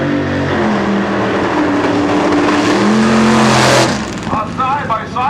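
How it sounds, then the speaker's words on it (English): Fuel-injected, methanol-burning Hemi-powered 1964 and 1965 Plymouth Belvedere factory experimental super stock cars race side by side in heads-up drag racing at a super stock reunion at Norwalk Raceway Park, roaring loudly and steadily before the engine note drops away abruptly. "A side-by-side battle of fuel-injected, methanol-burning, Hemi-powered 1964 Plymouth Belvedere"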